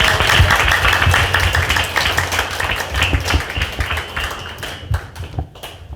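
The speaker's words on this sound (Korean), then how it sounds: "큰 박수로 맞이해 주시기 바랍니다." An audience at a book launch concert applauds to welcome a senior citizens' welfare center chairman, fairly loud clapping that thins and fades out in the last second.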